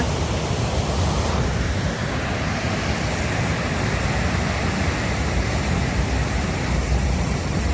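A powerful, unbroken roar of water rushing from the opened gates of Mettur Dam fills the whole stretch, loud and steady with no pauses or voices.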